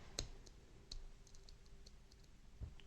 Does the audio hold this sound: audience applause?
no